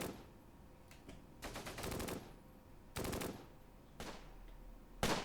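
Automatic and machine-gun fire from a Close Combat war game, with several loud bursts of rapid shots separated by short pauses and a single sharp report at the end, no voices.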